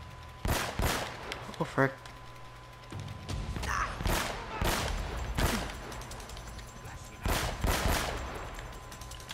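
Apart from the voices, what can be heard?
sniper gunfire in the video game Uncharted: Drake's Fortune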